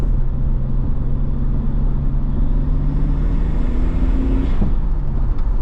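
Nissan Skyline engine fitted with an aftermarket turbo inlet and pod filter, a steady close rumble with a rising whoosh and tonal hum that build over several seconds before dropping off near the end.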